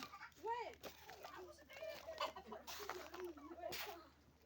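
Chickens and a rooster on a farm cluck and call near at hand in overlapping bursts, with a person talking quietly among them.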